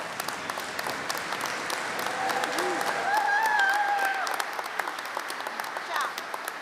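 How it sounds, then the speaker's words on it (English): Graduates and guests applaud at a spring commencement ceremony, a steady wash of clapping from a large crowd, with a voice speaking over it midway and a brief rise in level around the middle. "give those important people in our lives, or your lives, a loud round of applause"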